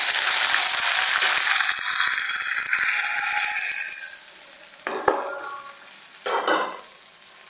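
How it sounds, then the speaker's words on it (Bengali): Reddened onions in a hot pan burst into loud, dense sizzling when a splash of water is added, then the hiss fades and a couple of stirring scrapes follow. "সর্বপ্রথম আমি একটু পানি দিয়ে দিব।"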